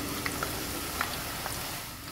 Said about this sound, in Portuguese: Quando ela começa a diminuir a intensidade da fritura, é porque ela já tá boa.